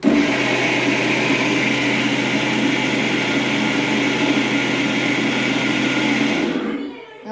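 A mixer grinder grinding mint chutney whirs loudly and steadily for several seconds, a dense close motor roar that winds down and stops near the end.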